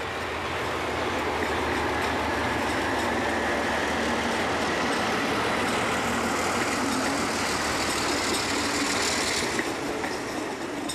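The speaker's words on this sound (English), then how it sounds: "this local stopping service also employs some distinctive motive power, like these old 1500 class USA Alco diesels" Old 1500 class USA-built Alco diesel locomotive from 1948 on a Portuguese local stopping service, a steady, loud broadband rumble of engine and rolling stock with faint rhythmic wheel clatter throughout, no voices.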